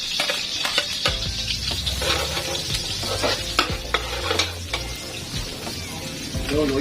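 Garlic sizzles in hot oil as it is stir-fried in a pan, a steady crackling fry broken by scraping stirs and a few utensil clinks and knocks against the pan.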